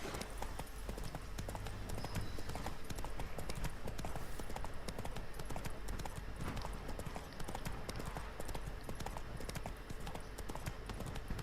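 Roach, Geralt's horse in The Witcher 3, gallops with a fast, steady drumming of hooves, close and continuous, set against quiet in-game music and ambience.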